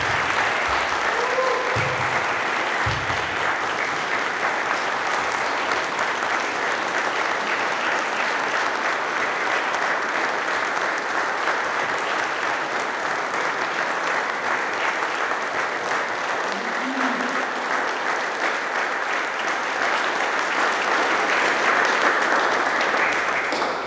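Sustained applause from a graduation audience at a maritime institute ceremony, steady and dense for the whole stretch, with brief voices and cheers poking through early on and near the end.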